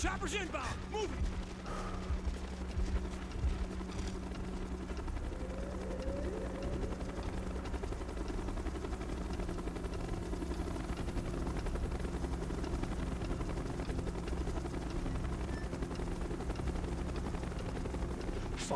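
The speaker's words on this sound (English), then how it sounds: "Chopper's inbound! Move it!" A helicopter arrives in the Call of Duty Black Ops video game, its rotor throbbing steadily under shouted voices, weapon sounds and mechanical clatter, holding fairly constant at a moderate level.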